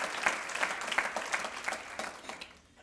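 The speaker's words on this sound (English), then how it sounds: "Please give Jan Vogel a round of applause." An audience at a State of the State event in Torrance, California claps for Jan Vogel, a dense round of applause from a crowd that fades out over a few seconds.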